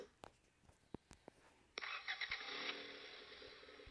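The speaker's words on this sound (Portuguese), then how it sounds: "Aqui é o barulho do carro." A car engine cranks and catches in the Rebaixados Elite Brasil driving game, a few sharp clicks giving way to a steady, loud running rumble that holds to the end.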